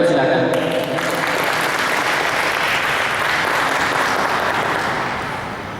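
Sustained audience applause at a book talk show in Indonesia, welcoming a Muslim preacher to the podium: a dense, steady wash of many clapping hands that holds for several seconds and fades slightly at the end.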